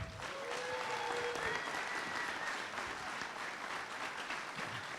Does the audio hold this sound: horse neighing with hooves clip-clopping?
no